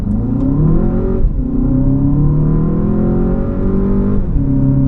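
An Audi A1 40 TFSI pulls hard from first gear with the stability control off, its engine rising loudly in pitch, then a brief gear-change dip before it climbs again, close and steady.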